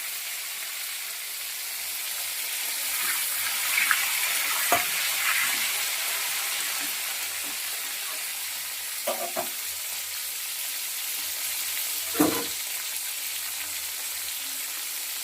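Cauliflower deep-frying in hot oil, dusted with turmeric: a steady, close broadband sizzle fills the whole clip, with a few brief knocks and scrapes of a utensil, and no voices.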